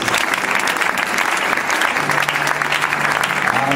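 A congregation at a church service applauds in acclamation of Jesus Christ, with loud, steady, continuous clapping that fills the whole stretch, some voices and cheers mixed into the crowd.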